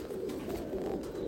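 Abluk pigeons kept in a home loft give a brief, low, continuous cooing murmur, soft and close.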